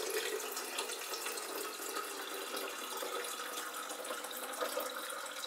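A steady, hissing stream of tap water pours continuously into a water filter at moderate volume, with no other sounds.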